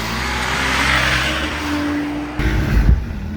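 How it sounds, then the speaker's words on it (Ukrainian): A small 250cc motorcycle engine drones at a distance, then revs up sharply and roars closer for a moment before easing off. "Зараз буде мотоцикл"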